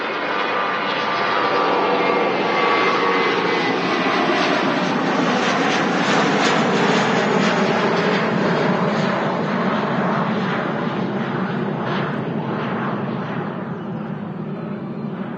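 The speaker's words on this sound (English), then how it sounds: "definitely a safer option to abort the landing and go around" A British Airways airliner aborts its landing and goes around at Manchester Airport, a loud, continuous roar of jet engines sustained throughout and heard alone without talk.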